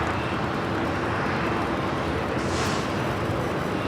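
Airliner taxiing toward runway 25 Right at LAX, a steady loud roar of jet engines with a broad rushing hiss, continuous and fairly close, rising briefly in a higher whine near the end.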